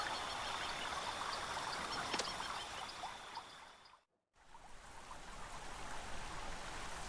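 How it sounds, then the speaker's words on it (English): Soft continuous trickle and splash of a small waterfall in the VR game Virry Safari: Wild Encounters, steady and gentle with a brief dropout midway. "a tiny little waterfall over there"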